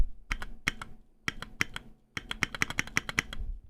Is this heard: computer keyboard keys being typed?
yes